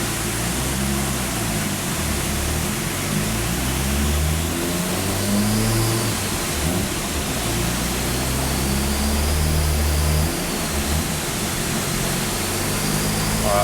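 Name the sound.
Mazda RX7 single turbo engine revving on test run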